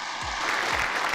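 Brief applause in the U.S. House chamber during the 119th Congress speaker election, a dense burst of clapping with low thumps underneath, loud and continuous for about a second.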